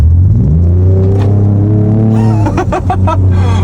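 Ford Ranger Raptor with a 3-liter twin-turbo V6 in sport mode, overtaking on an open road: a loud, steady deep exhaust drone that rises in pitch as the engine revs up, then a burst of rapid crackles and pops.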